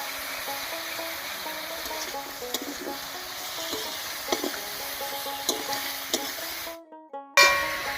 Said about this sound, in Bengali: আলু আর বেগুনটা একটু ভাজা ভাজা হতে থাক